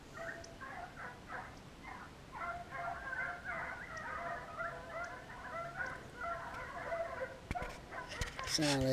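A beagle hound on a morning run in Kansas bays and barks repeatedly in the distance, an irregular stream of yelps carried on open air, with a brief handling knock near the end.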